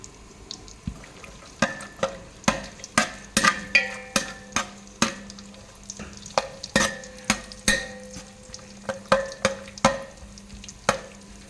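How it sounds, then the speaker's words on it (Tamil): Cashews and raisins stirred in a hot pan, a spoon scraping and clacking in steady repeated strokes over a soft sizzle, close and fairly quiet with no talking. "இப்போ நம்ம எடுத்து வச்சுருக்க முந்திரி பருப்பு திராட்சையை ஃபஸ்ட்டு போட்டு வதக்குறோம்"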